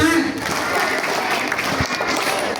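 Schoolchildren clapping together at an elementary school Isra Mi'raj commemoration, a loud burst of group clapping with a few sharper accented claps, and voices mixed in.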